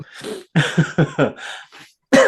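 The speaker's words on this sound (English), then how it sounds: "I coughed." A string of rough, throaty coughs in quick succession, close and fairly loud, with brief pauses between bursts.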